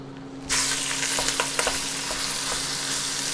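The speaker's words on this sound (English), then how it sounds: "make your oil nice and hot for a start. Then put in the mince." Minced meat hits hot oil in a pan for pad kra pao, setting off a loud, steady sizzle that stays dense throughout, with a few light clicks of utensils on top and no talk.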